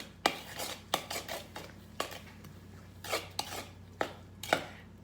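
Monster cookie dough mixed by hand in a bowl, with irregular thumps and scrapes of the utensil against the sides, moderately close and fairly quiet, no talking.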